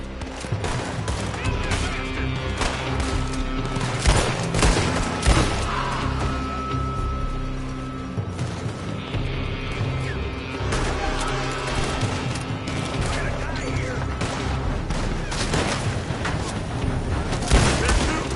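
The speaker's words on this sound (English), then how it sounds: "They're shooting from that building!" Heavy gunfire from a building in the Western game Red Dead Redemption 2 rattles throughout in rapid, overlapping volleys of rifle and repeater shots, loud and close, with occasional heavier booms and brief shouting voices mixed under the shooting.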